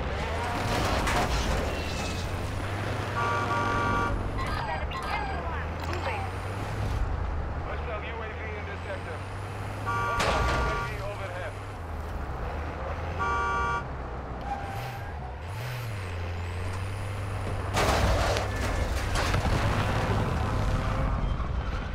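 Engine of a vehicle being driven in a shooter video game, a steady low drone that shifts pitch with speed, under game effects, occasional tones and bursts, and players talking over it throughout.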